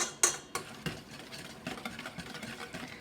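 Hollandaise sauce being mixed in a pan: a few sharp utensil clinks against the pan up front, then steady soft scraping and stirring, close and fairly quiet, with no talking.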